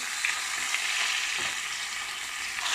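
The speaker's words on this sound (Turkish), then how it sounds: "şöyle balıklarımızı da kızartalım" Fish sizzling as they fry in a pan, a steady close crackle of hot oil with small pops, with no one talking.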